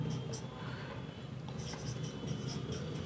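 A pen scratches numbers onto paper by hand in steady short strokes during a maths lesson on square roots, close and soft, with light background noise.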